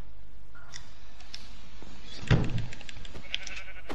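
A sheep in the Minecraft video game gives a single loud, close bleat with a wavering, stuttering tail, set against a quiet background with a few faint clicks.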